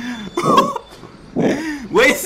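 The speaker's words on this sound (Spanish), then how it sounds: "¡Güey, se vomitó!" A man retches and gags in several harsh, strained heaves separated by short pauses, close and loud.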